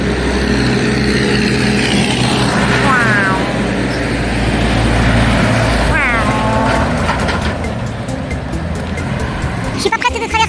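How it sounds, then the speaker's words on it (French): A tractor engine rumbles steadily along a road, loud and close, with passing traffic noise and a brief rattle near the end. "Je crois qu'il y a un tracteur."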